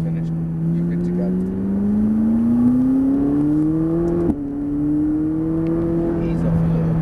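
A McLaren 570S on a track lap holds a loud, steady engine drone that climbs in pitch through the gears, with one quick shift in the middle, heard from inside the car under occasional talk.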